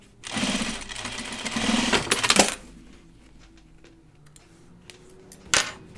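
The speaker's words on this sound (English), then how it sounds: "So I'm just going to stitch that down." A sewing machine stitches down a non-functional front piece of a Noodlehead backpack in one short, close burst of rapid needle chatter, then stops, leaving quiet handling clicks and small taps.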